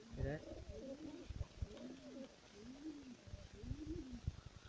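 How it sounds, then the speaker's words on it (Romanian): Pigeons coo close by: soft, low, repeated rolling calls over a faint steady background hiss, with a few muffled bumps and rustles between the calls. "Dacă voi ați mai văzut așa un porumbel blând"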